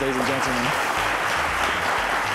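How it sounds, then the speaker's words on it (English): Studio audience applause for a contestant on a televised schools maths quiz show, a steady broadband clatter with a host's voice talking over it and low musical tones underneath. "Let's round of applause to Praise"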